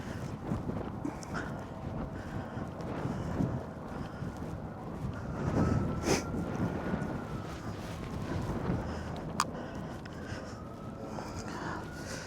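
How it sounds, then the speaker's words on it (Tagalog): Strong wind gusting across the microphone in Assiniboine Park, a steady rushing buffet through the whole stretch with a few harder surges and faint background voices. "Lakas ng hangin. May hangin dito, kaya malamig."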